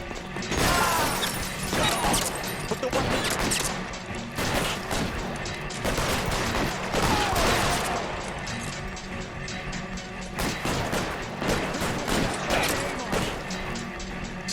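Dense, rapid gunfire from a shootout in L.A. Noire, loud repeated bursts and cracks with shattering impacts running throughout, voices talking underneath the firefight.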